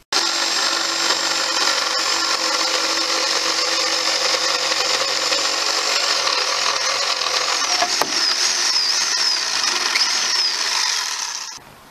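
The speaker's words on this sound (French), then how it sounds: "Vos panneaux à la scie sauteuse." A jigsaw cutting melamine board with a loud, steady, high buzzing whine that runs unbroken for several seconds, then trails off at the end.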